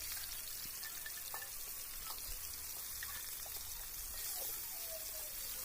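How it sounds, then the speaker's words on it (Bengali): Fish pieces fry in hot mustard oil, giving a steady, even crackling hiss that stays unbroken throughout with faint spatters on top. "একে একে সব মাছগুলো আমি তেলের মধ্যে দিয়ে দিচ্ছি।"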